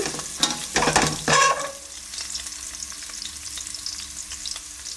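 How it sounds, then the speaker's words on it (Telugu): Dried red chillies and chana dal hit hot tempering oil for a tamarind pulihora pulusu, crackling in loud, busy bursts with stirring for the first couple of seconds, then settling into a quieter, steady sizzle. "అలాగే కారానికి కొంచెం ఎండుమిర్చి కొన్ని మళ్ళీ తాలింపులు పోపుల్లో వేసుకుంటాం కదండి శనగపప్పు అవిని అలా వేసుకోవచ్చు అనమాట"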